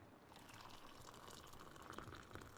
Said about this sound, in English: Allow me to pour you some tea.